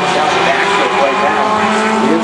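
Race cars in a heat race roar together at the start of a dirt-track style oval event, a dense, loud engine drone throughout with no pause.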